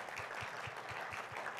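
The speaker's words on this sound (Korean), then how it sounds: "우리 스태프들에게 우리 격려의 박수 한번 보낼까요?" Audience applause for the staff during a Sunday morning university church service, a steady, even patter of many hands at moderate distance with a faint rhythmic thumping underneath.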